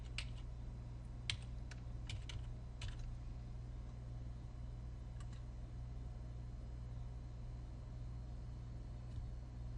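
Keys typed on a computer keyboard while logging into Office 365: a few quick clusters of faint clicks in the first three seconds and one more near five seconds, over a steady low fan hum.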